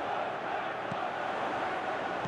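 Stadium crowd in the football video game PES 2021, a steady dense roar of cheering fans heard alone and continuous at moderate loudness.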